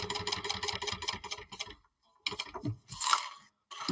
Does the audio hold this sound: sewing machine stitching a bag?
yes